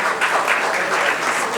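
A steady wash of audience applause in an auditorium at a conference inauguration, continuous and even throughout as the guest departs.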